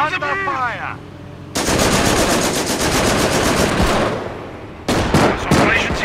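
Rapid machine gun fire in the Company of Heroes strategy game: long, loud, continuous bursts that pause briefly and then resume, with a short voice callout heard just before the shooting starts.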